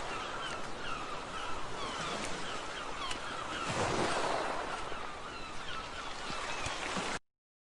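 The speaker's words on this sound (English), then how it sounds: "The ocean. The ocean. Yeah. And some seagulls, right?" Ocean surf washes in a continuous broad rush with one heavier wave swelling midway, while faint gull calls sound over the water, heard alone with no voices.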